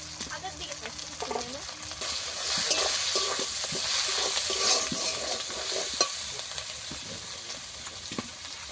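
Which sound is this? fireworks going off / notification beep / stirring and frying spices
stirring and frying spices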